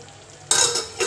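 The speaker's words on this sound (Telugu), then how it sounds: "ఆ మసాలా అంతా బాగా నూనె పైకి తేలేదాకా కలబెట్టుకుంటూ ఉండాలి" Mutton masala being stirred as it fries in oil for an Andhra-style mutton curry, a utensil scraping the pan in bursts over a steady close sizzle, louder after a quiet start.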